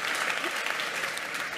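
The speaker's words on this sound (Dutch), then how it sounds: "En applaus, geef een applaus." A live audience at an evening discussion event gives a brief burst of full, even clapping that fills the room.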